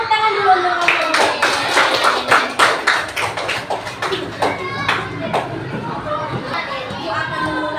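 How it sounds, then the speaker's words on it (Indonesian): Classroom applause for a group of students, a burst of rhythmic clapping from many children that starts fast and thins out, with excited chatter and voices over it. "Boleh tepuk tangan dulu untuk kelompok 2"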